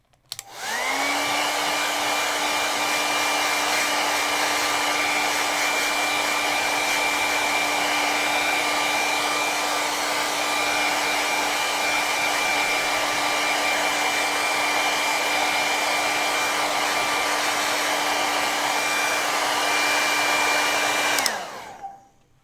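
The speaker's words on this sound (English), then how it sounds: "Okay, I need to dry this because if I start going over an area that's not quite dry, I'm going to lift my previous layers." A hair dryer runs steadily and loudly for about twenty seconds, drying acrylic paint on a painting of a dolphin, with a constant whine and airy rush before switching off at the end.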